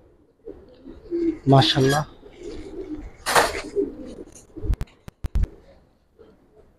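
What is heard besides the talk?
Giribaz pigeons cooing in loft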